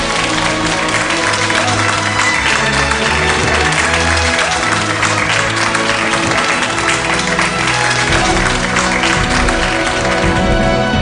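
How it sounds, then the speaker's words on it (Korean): Loud, dense applause from a large audience congratulating a contestant at a competition, steady clapping throughout with crowd noise mixed in. "여러분 다시 한번 힘찬 박수로"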